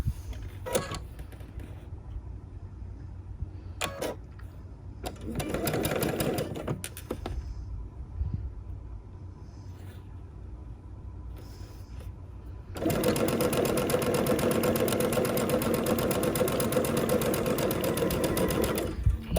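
Sewing machine chain piecing quilt pieces for a butterfly quilt, running in short bursts early on, then stitching steadily and loudly for the last several seconds with no pauses.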